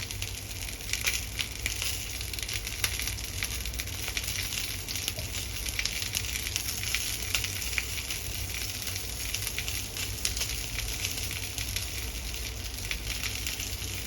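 Sun-dried fish such as salted mackerel and twice-dried short mackerel grilling together over a fire in Japan, giving a steady, even crackling sizzle with fine pops throughout, alone and at moderate distance.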